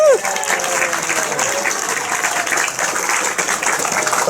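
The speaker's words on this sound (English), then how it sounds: "Give them a round of applause already." A crowd applauds at the opening ceremony of the Furcation 2019 convention, producing a sustained, dense patter of many hands clapping at an even, fairly loud level throughout.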